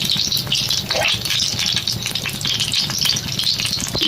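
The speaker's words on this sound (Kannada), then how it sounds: "ಬೆಳ್ಳುಳ್ಳಿ ಒಗ್ಗರಣೆ" Garlic tempering crackling in hot oil for a crushed ivy gourd huli, a loud close continuous sizzle with stirring scrapes, and faint bird chirps in the background.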